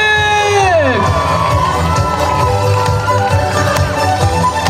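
A crowd at a Sloviansk birthday celebration cheers, shouts and whoops loudly for finalists of a contest, with a falling musical tone at the start and a continuous roar of voices after.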